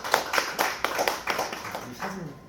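A church congregation claps after an infant baptism in a small gathering, a few seconds of uneven, moderately near hand claps that thin out, with a voice speaking briefly near the end.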